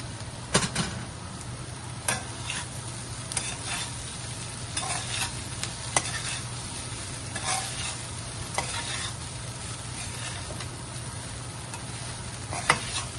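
Washed poha being stirred into a frying pan, with a steady low sizzle under repeated light scraping and clicking strokes from the stirring spoon, spaced a second or two apart.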